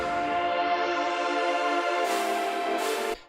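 Layered synth chords from a hyperpop beat, playing alone as a sustained, bright harmonic pad that opens up with a brief filtered sweep near the end before cutting off.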